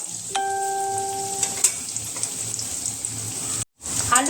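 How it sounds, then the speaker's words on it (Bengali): Paneer fries lightly in a pan with a steady sizzle, a brief metallic ring near the start and a short sharp break before the sizzling resumes. "এখন পনিরগুলো হালকা করে ভেজে নিচ্ছি"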